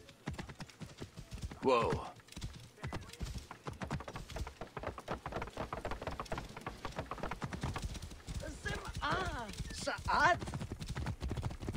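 Horse hoofbeats from riding in Assassin's Creed Origins, a steady clip-clop rhythm running throughout at moderate loudness beneath game music and brief bursts of talking.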